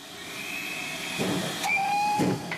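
A steam locomotive on a preserved railway in North Wales gives a long, steady whistle over a hissing background, with a couple of short chuffing bursts as the whistle pitch rises, heard from close by.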